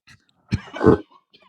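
A couple of sharp, throaty coughs close to the microphone, with a faint short sound before and after.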